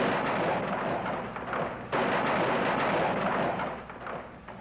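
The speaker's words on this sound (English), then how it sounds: "13 seconds of gunfire that seemed like an eternity" Gunfire from the Kent State University shootings: a dense, continuous crackling barrage of shots that fills the whole stretch, with a brief dip near the middle before resuming loudly, no voices over it.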